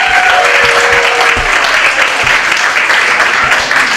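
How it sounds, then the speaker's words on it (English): Enthusiastic audience applause fills a room at a poetry reading and open mic series, loud, dense clapping held throughout with a few whoops rising over it. "I keep that applause going for our very last open micer"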